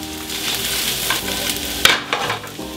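Garlic and parsley fry in a hot pan, a dense crackling sizzle with stirring scrapes and a sharp clatter near the end, close and loud with no talk.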